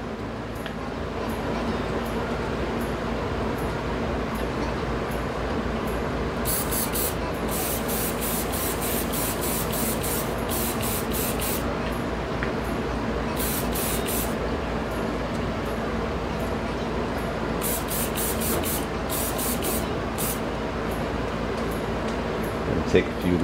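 A Gaahleri Ghad 68 airbrush sprays Fiebings Pro Dye onto leather patches, a continuous close airy hiss running throughout with bursts of rapid fluttering pulses as the trigger is worked.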